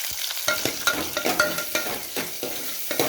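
Chana dal, urad dal, mustard seeds and dried red chillies sizzle in hot oil while a spoon stirs them, with sharp scraping strokes and crackling pops repeating over a steady close fry.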